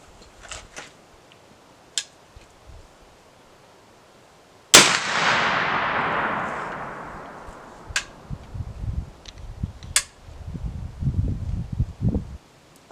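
A single loud muzzleloader rifle shot fired with 50 grains of 3F black powder at a 25-yard range, a sharp crack followed by a long decaying boom, with faint clicks before and rustling handling noise afterward.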